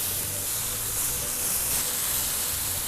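Minced meat for a burger patty sizzles in a hot pan, a loud, steady hiss of frying fat that spreads bright and continuous with a slight swell near the middle.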